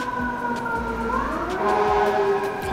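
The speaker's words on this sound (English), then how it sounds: "That's a fire truck." A wailing fire truck siren rises and falls steadily on a New York City street, fairly loud and close, with no voices over it.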